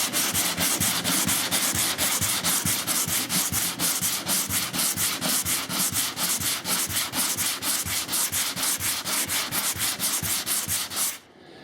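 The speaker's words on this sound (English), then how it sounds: "when your drywall mud is dry, time to give it a bit of a sand" Rhythmic sanding strokes scraping back and forth on dried drywall mud patching a wall, close and steady, repeating for several seconds before stopping abruptly.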